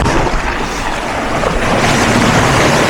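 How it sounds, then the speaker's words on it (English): Ocean waves wash and break against a beach seawall, a steady broadband roar of surf with wind noise across the microphone, continuous and fairly loud throughout with no talking. "See if we can get some waves hitting along the seawall."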